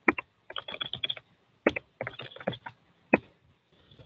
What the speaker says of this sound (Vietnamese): mình nhấn tab.